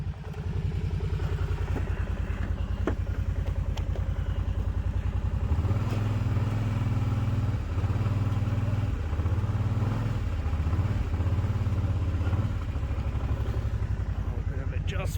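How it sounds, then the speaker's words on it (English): A four-wheeler ATV engine chugs steadily while pushing a little Willys jeep, a near, continuous mid-pitched drone with a rhythmic pulsing swell partway through. "That four-wheeler would be happier in low range."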